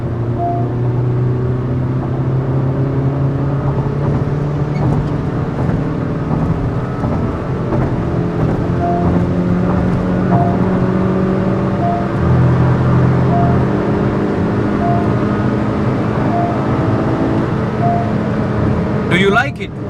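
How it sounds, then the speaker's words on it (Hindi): A 2020 Honda City ZX manual with a petrol VTEC engine, heard from inside: a steady engine hum that rises and shifts in pitch as it revs, with a speed-alert buzzer beeping repeatedly over it. "चलिए सुनते हैं इस गाड़ी की इंजन नोट जब आप इसे रेव करते हो."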